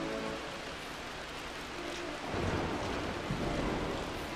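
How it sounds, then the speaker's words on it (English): A rainstorm in Rise of the Tomb Raider's Blood Ties, steady dense rain hiss with a low rumble of thunder swelling partway through, constant and fairly loud. "I can't really hear it because of the thunder"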